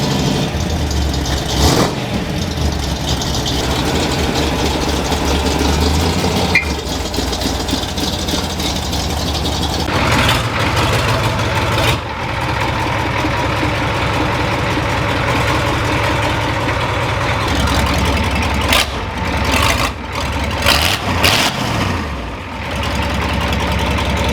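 A 1985 Ford F-250 pickup with a 6.9 IDI diesel idles close by, a steady loud low rumble that continues for the whole stretch with occasional clatter and small shifts in tone.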